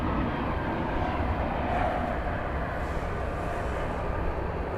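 A UPS Boeing 767 takes off from DFW Airport at night, a broad, steady jet engine roar at moderate distance that holds evenly throughout.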